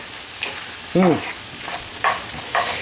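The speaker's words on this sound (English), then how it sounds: "Now stir that together so the egg gets into the tomato juice" Eggs and tomato are stirred together in a hot pan: short scraping strokes over a low sizzle, with one brief squeaky scrape near the middle.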